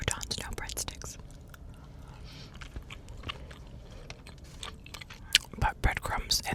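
Close, soft chewing and crunching of Olive Garden food, with bread and meat mentioned, interspersed with quiet whispering and small mouth clicks, intimate and near in a quiet room.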